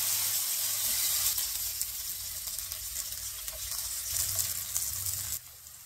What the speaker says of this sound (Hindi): और अब हम बाकी के बचे हुए चिकन को भी इसी तरह फ्राई कर लेंगे